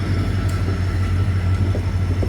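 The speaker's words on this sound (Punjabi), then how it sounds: "ਰੇਲ ਗੱਡੀ ਲੰਘਦੀ ਹੋਈ" A train passing by, heard as a steady, loud low rumble with a constant droning hum that holds evenly throughout, with no voices over it.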